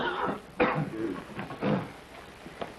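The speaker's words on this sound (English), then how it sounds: "That's a bad cough." A man coughing indoors in an early-1930s film scene, several harsh rough coughs and throat-clearing bursts spaced out over a few seconds, close and moderately loud with no talk.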